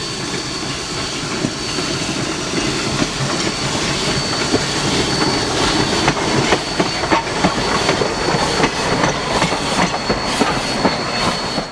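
A locomotive rumbles steadily along the rails nearby during a railroad open house, with continuous clickety-clack of wheels and a faint high squeal throughout.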